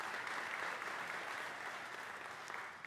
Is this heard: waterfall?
no